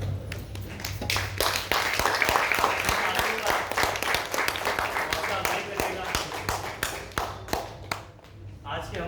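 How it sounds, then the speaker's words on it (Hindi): Sustained, loud applause from a theatre audience at the close of a Hindi stage play, dense clapping filling the hall for several seconds and thinning toward the end, with a low steady hum underneath. "एक बार जोरदार तालियों से"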